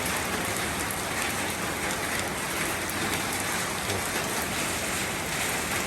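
Steady, dense rain falls continuously on a rural house with a corrugated metal roof, a broad hiss of drops hitting surfaces with no pauses and no voices.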